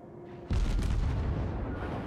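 A heavy naval gun hit strikes a warship in a World of Warships-style battle game, one sudden loud boom followed by a sustained rumbling roar that fades slowly.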